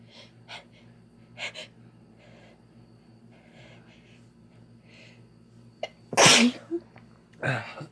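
A woman lets out a loud, close sneeze near the end, with softer breaths and sniffs scattered before it and another short burst just after.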